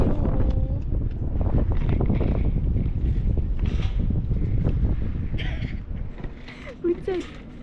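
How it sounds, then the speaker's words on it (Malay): Rain and gusting wind buffet the microphone on the skywalk at Genting Highlands, a loud rough rumble throughout that eases slightly toward the end, with scattered higher clatter. "Hujan."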